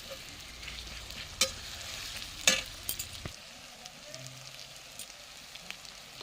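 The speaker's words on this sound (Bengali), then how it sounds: "পেঁয়াজটা ভালো করে লাল লাল করে ভেজে নিয়েছি দিয়ে দিচ্ছি রসুন বাটা" Garlic paste hits well-browned fried onions in a pot for a clay-pot chicken dish, giving a close, steady sizzle with sharp clanks of a utensil against the pan and some stirring scrapes.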